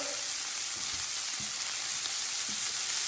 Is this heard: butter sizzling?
yes